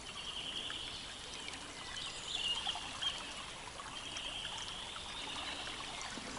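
Floodwater carrying a lot of foam flows steadily outdoors in spring, a soft, continuous rushing trickle heard from some distance, with faint bird calls over it.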